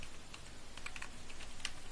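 Typing on a computer keyboard while entering a blog post into a Flask web form: a steady run of soft, close keystrokes with no talking.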